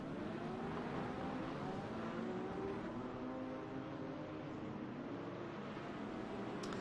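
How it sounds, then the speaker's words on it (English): Race cars in the iRacing sim lap Donington Park National circuit, a steady droning engine roar with layered revving tones running continuously at moderate volume, no voices over it. "So the car's just making their way around."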